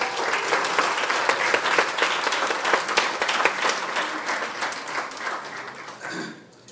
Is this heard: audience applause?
yes